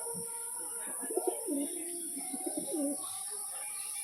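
Soft, low cooing of a female pigeon in a rolling series of throaty calls, close by, over a steady background hiss, with no talking.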